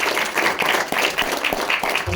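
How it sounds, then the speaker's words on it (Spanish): An audience applauds, a dense run of overlapping claps that goes on steadily throughout, fairly loud and close. "quiero que le demos un fuerte aplauso a él."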